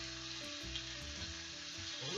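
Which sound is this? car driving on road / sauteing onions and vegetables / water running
sauteing onions and vegetables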